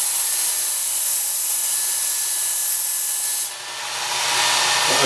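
A Work Sharp Ken Onion belt sharpener grinding a knife blade, a loud continuous abrasive hiss of steel against the running belt that briefly eases and then builds again near the end, with no talk over it.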